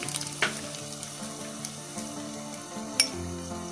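Crushed ginger and garlic fry in a pan for a yogurt chicken dish, a close steady sizzle with a few soft stirring knocks and one sharp crackle.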